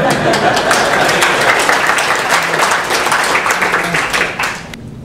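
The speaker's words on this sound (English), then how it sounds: "That was the applause line to warm up the end." Town hall audience in Ajax claps steadily for about five seconds, a dense, loud patter of many hands that thins slightly near the end.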